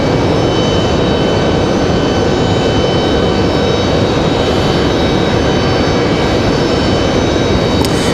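Republic Airways jet airliner from Chicago at Raleigh-Durham airport, its engine roar steady and loud throughout, a broad continuous rumble with no voices.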